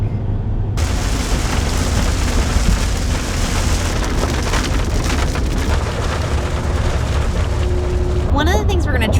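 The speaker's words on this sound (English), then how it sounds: "Here comes the rain." Rain drumming steadily on an RV while driving in traffic, a dense continuous wash with road rumble underneath, running loud and unbroken through most of the stretch before easing at the end.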